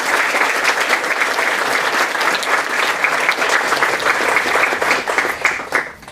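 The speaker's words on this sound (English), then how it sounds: "Let's give them a round of applause and welcome them to Eric's Club." Sustained audience applause at a college club lecture event, a dense, loud, even roar of many hands clapping that continues unbroken, with faint crowd murmur beneath.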